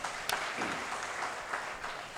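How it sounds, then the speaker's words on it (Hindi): Audience applause at a Hindi comic poetry gathering, a brief burst of steady clapping from the crowd, even and fairly loud with a sharp clap near the start. "जरा एक बार तालियां बजाओ"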